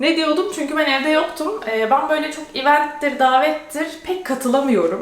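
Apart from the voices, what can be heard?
None of the usual background noises is heard.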